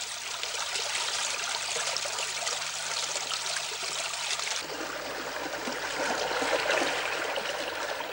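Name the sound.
water flowing into a drainage tunnel with whirlpool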